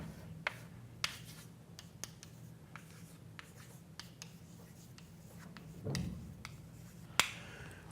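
Chalk or marker strokes on a board during a university lecture on product measures: faint scratching and sharp taps at irregular intervals in a quiet room, with no speech.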